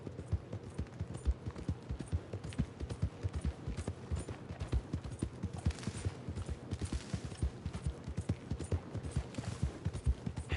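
Steady rhythmic clip-clop of a horse's hooves in a Western video game, as a mare walks along at an even pace. The hoofbeats are close and fairly quiet, continuing without pause throughout.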